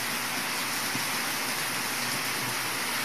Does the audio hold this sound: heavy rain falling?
yes